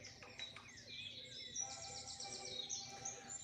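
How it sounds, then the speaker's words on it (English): Active birds chirp and trill outdoors in quick overlapping calls, moderately close and steady over a faint background hum. "Those are some really active birds."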